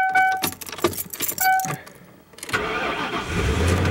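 Car engine starting up after a rattle of keys and the cranking of the starter, catching with a sudden roar that settles into a steady, close idle.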